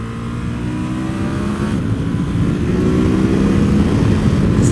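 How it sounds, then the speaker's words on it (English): A 2020 Ducati Monster 1200 S motorcycle roars as its exhaust climbs high through the rev range, a loud, close, steadily building engine note with no talking over it. "It sounds like a force of nature when you start getting up high in the rev range."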